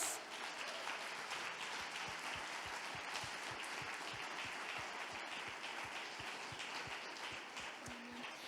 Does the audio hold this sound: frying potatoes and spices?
no